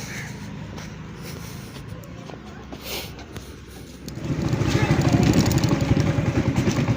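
A parked motorcycle starts up and runs loudly near the listener after a quieter stretch, a steady engine rumble filling the second half, with rural outdoor background noise.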